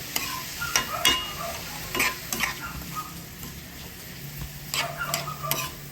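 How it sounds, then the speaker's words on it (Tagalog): Rice being stirred and mixed in a pan for Hainanese chicken rice, repeated sharp spatula scrapes and taps at an uneven pace over a soft sizzle, close and moderately quiet, with no voices. "we have to mix it very well"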